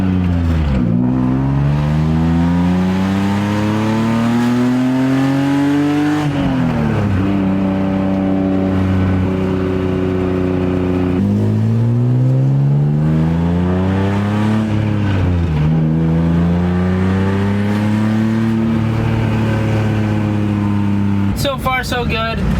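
A drift car's engine revs hard going uphill, its exhaust patched with exhaust putty. The engine note climbs, drops back and climbs again through several gears, loud and close and nearly continuous, with a brief rattle near the end.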